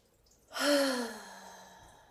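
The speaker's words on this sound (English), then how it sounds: "let's go ahead and take 3 deep breaths, and I recommend breathing out through your mouth" A single deep breath let out slowly through the mouth, a close, soft airy exhale that swells quickly and then tapers away over about a second and a half, with no talk.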